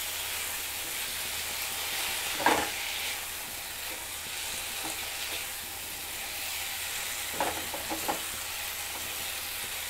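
Bhindi masala with amchur powder is stirred in a frying pan, a steady close sizzle running throughout with a few brief scraping stirs, and no one speaks.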